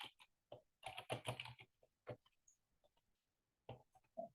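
Close, quiet typing on a computer keyboard: irregular clusters of light key clicks with short pauses between bursts, no voices.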